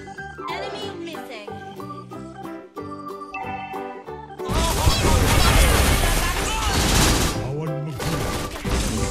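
Shots from Beatrix in the mobile game Mobile Legends ring out as a dense burst of crashing, clattering gunfire. It bursts in loudly after a stretch of sparse tonal game sounds and keeps up to the end.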